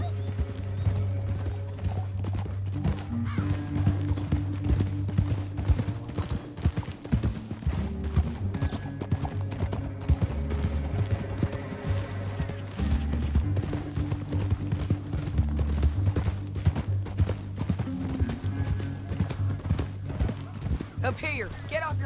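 Horses ridden at a steady pace in Red Dead Redemption 2 while bounty hunting, their hooves clip-clopping in a continuous rhythm with occasional whinnies, set against a music score and game ambience.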